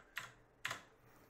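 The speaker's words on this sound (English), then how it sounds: "Sorry, I'm banging on the keyboard." Two sharp, close key bangs on a computer keyboard about half a second apart, each a quick clacking burst in an otherwise quiet room.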